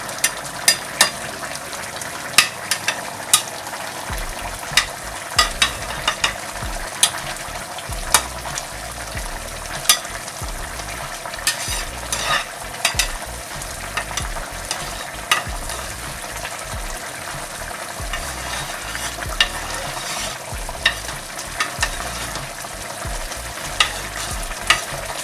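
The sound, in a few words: rice being turned in boiling plov cauldron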